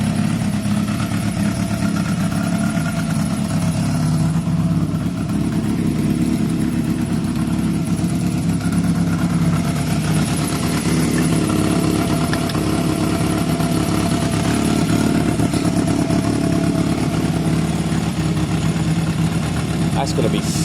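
Honda CB250 bobber motorcycle engine running steadily, loud and close, a continuous rumbling idle throughout with no clear revving.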